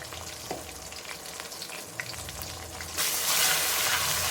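Ajwain and Kashmiri chili in hot oil for dal mash give a soft crackling fry with light stirring clicks, then a sudden louder, dense sizzle bursts up near the end and holds close by.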